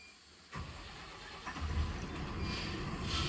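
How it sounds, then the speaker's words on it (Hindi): Tata 1822 bus engine starting: a brief quiet stretch, then the diesel cranks and catches with a sudden jump, settling into a steady, rising idle rumble close by. "फाइनली अभी हम करते हैं इस बस को शुरू।"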